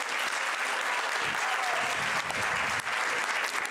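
An audience applauds at a political forum on women in power in Mexico, a steady, dense round of clapping filling the hall throughout, with faint voices mixed underneath.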